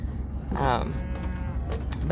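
A cow moos a couple of times, low and drawn out, over a quiet outdoor background.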